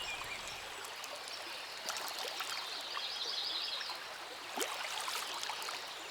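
An old, quiet river in the north of Portugal flows with a soft, continuous trickling and burbling, faint and even, with a few brief splashes and no voices.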